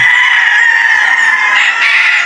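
A rooster at a game farm crows loudly and close, one sustained drawn-out call that fills the whole moment.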